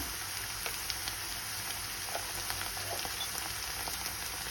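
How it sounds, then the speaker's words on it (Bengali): Potatoes and onion fry in a pan with a steady, close sizzle that carries through without pause, with faint scattered crackles and stirring ticks and no voices. "একটু আলুটাকে ভেজে নিলাম পেঁয়াজের সাথে, তাহলে একটু খেতে ভালো লাগবে।"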